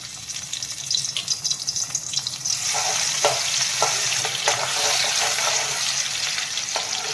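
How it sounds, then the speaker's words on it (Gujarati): Garlic, ginger and chili paste sizzles and sautés in hot oil in a pan, a close, steady frying hiss that grows louder and denser partway through, with light stirring scrapes. "અને થોડી વાર સાંતળીશું."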